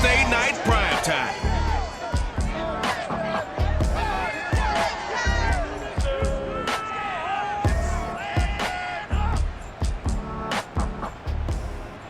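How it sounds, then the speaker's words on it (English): A home stadium crowd cheers loudly for the Houston Texans as they come out of the locker room before a Thursday night Madden NFL 22 game against the Panthers. The roar is dense and continuous, with sharp claps and thumps mixed in. "this crowd enthusiastically cheering on their Texans as they emerge from the locker room"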